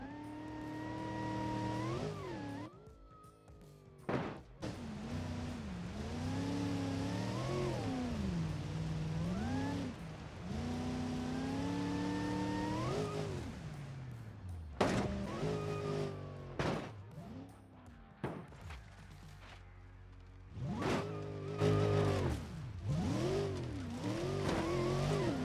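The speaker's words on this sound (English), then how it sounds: "you can just slide the truck around" A RAM TRX truck in BeamNG Drive slides around on sand dunes, its engine revving and wavering in long rising and falling pitch sweeps, with brief drops and bursts of throttle, heard close and alone.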